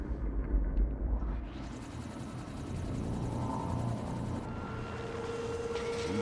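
A helicopter in the video game Quantum Break approaches with a steady rotor rumble and whine that swells and holds, loud and continuous over a low background.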